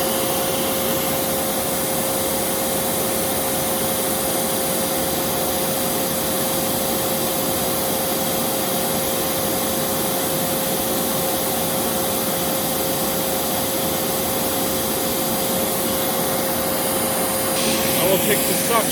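A Riccar R30D vacuum cleaner runs steadily with airflow at the end of its hose, a constant broadband whoosh with a fixed motor whine held throughout, close and loud, with no break.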